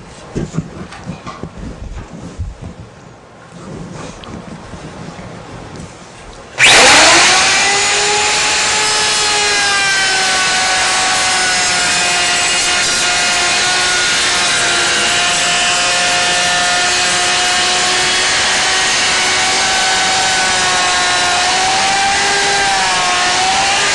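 A Shopsmith SS103 overarm router cutting a cove into the back of a wooden bead: faint shop rustling gives way to a loud, steady, high-pitched motor whine that starts abruptly and holds unbroken to the end.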